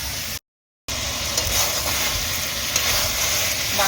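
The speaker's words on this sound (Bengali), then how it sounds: "মাংস একটু ঢেকে কষে নিয়েছে" Meat sautés in a covered pan with a loud, steady, close sizzle that drops out briefly near the start, then resumes with a few soft clatters.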